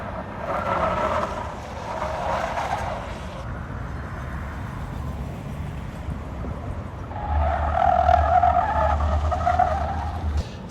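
A Cadillac Lyriq V electric car runs an autocross course, its tires squealing loudly through turns in long sustained bursts over a low rolling hum, with no engine roar.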